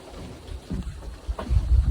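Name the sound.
rain and thunder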